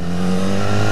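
A BMW S1000R naked sport motorcycle engine, 160 horsepower, held at 40% throttle, gives a loud, steady, close-up drone with a strong low hum and no break for a full second.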